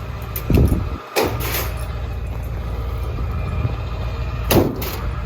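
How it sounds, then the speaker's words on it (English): The door of a 2001 Ford F-550 utility service truck thuds shut once, needing adjustment, followed by a couple of lighter clunks, over a steady low engine-like rumble outdoors. "Door kind of shuts."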